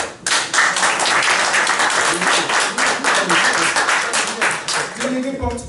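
An audience at a political assembly in Paris claps for a delegate announced by name, dense applause starting abruptly and continuing evenly, with a brief voice cutting in at the very end.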